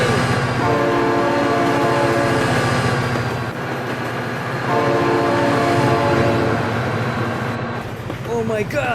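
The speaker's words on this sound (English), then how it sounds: "Oh my god, train!" A train in the BeamNG.drive video game rumbles past close and loud, its horn sounding in long sustained blasts, with excited voices shouting over it.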